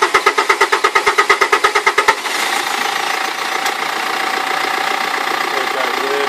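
Mitsubishi Triton engine running near the microphone: a rapid rhythmic knocking pulse for about two seconds, then a steady, even idle drone with no voices.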